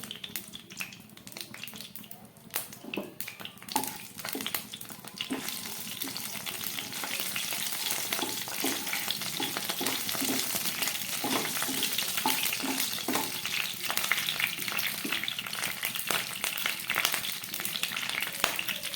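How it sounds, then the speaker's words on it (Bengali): Three or four bay leaves and two dried red chillies frying in hot oil as a tempering for Bengali vegetarian khichuri, with a loud continuous sizzle and crackle that builds and stays dense, plus intermittent stirring clicks. "তেলটা গরম হয়ে গেছে এর মধ্যে আমি দিয়ে দিচ্ছি একটু ফোড়নের জন্য তেজপাতা তিন চারটে তেজপাতা দিলাম আর দিয়ে দিচ্ছি দুটো শুকনো লঙ্কা"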